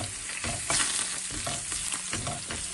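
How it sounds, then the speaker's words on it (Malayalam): Curry leaves, ginger, pepper and crushed spices stirred in a sizzling pan for a Kerala meat curry, with a steady fry and repeated spoon scrapes a few times a second, close and fairly quiet. "ഇനി ഒന്ന് ഇളക്കി കൊടുക്കാം."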